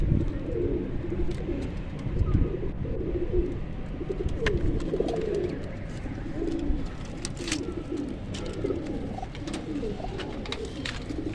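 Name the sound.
breeder pigeons cooing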